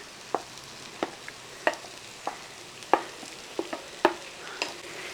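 Fried okra being stirred into gravy in a pan, a series of about ten distinct spoon knocks and scrapes at an uneven pace over a faint, steady sizzle, close by.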